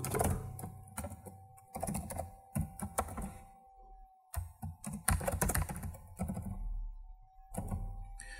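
Clattering keystrokes on a computer keyboard while code is typed, coming in quick bursts separated by short pauses, close and clear with no speech.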